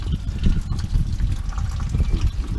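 Diesel fuel draining from the fuel filter housing of a 2012 Ford F250 with the 6.7L Powerstroke, a steady close gurgling trickle running throughout without pause.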